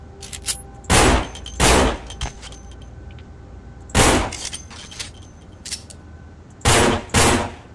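Gunfire in the Vampire: The Masquerade – Bloodlines video game, loud bursts of shots in three separate clusters of two or three, close and sharp, with quiet pauses between.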